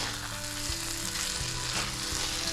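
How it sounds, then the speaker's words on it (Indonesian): Onion-based spice paste for ayam bakar taliwang fries on low heat, giving a continuous close, even sizzle that holds steady throughout, with no voices. "Ini kita masak dengan api kecil ya Mam, supaya nanti bumbunya tidak bau bawang mentah"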